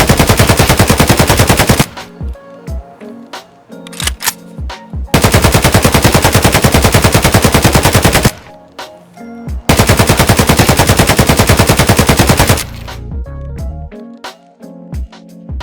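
AKM rifle firing full-auto in the video game Escape From Tarkov, three long loud sustained bursts separated by short pauses with shell and handling clatter between them.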